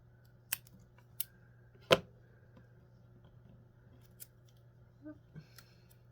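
Scissors trimming paper at a tabletop, three sharp close snips in the first two seconds followed by a few fainter clicks and handling sounds in a quiet room.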